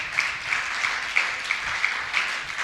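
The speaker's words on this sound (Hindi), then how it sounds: "धन्यवाद करें ताली बजाकर।" A church congregation at a Bible class in Khanpur claps in thanks, producing an even, fairly quiet patter of hands with regular sharper accents about every third of a second, heard on its own with no talking.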